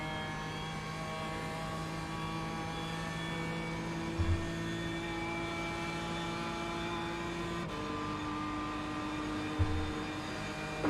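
Race cars in an N24 endurance racing video game: a steady, loud engine drone holds, then drops in pitch with a quick shift partway through, with faint bumps and no talking.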